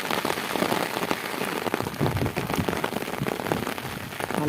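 Steady rain falls and patters densely on surfaces close by, a continuous loud hiss with scattered drop impacts and no voices.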